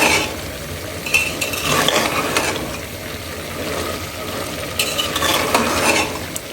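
Chickpeas stirred and fried in oil in a pan make a loud, close sizzle broken by ratcheting scrapes and clinks of a spatula against the pan.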